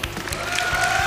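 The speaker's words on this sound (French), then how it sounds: "on l'applaudit." Brief burst of audience applause on stage at a Neo Geo Battle Coliseum fighting-game event, a steady rush of clapping lasting about a second with some faint tonal background sound.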